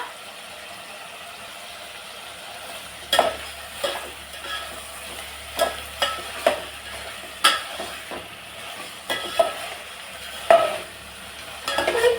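Ginger garlic paste stirred into hot oil in a pan, with a steady low sizzle and a series of sharp scraping clicks of the spoon against the pan, spaced irregularly throughout, fairly quiet and without talk.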